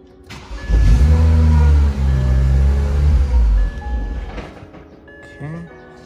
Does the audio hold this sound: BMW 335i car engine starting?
yes